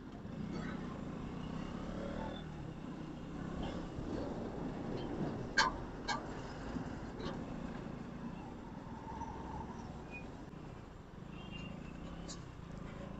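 Road traffic on the Mumbai Goa highway, with a steady low rumble of passing vehicles and a few engines rising and fading, heard from a moving bike under the wind.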